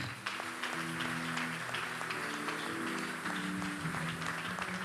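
A church congregation claps and applauds to acclaim the Lord at a prophetic Hanukkah evening service, steady sustained clapping with a held musical tone underneath, fairly quiet and distant.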